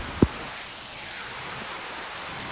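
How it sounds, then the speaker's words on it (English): Rain falling outdoors on an odd summer day, a steady soft hiss of drops on surfaces with one brief sharp tap near the start, fairly quiet and with no talking. "now it is pouring."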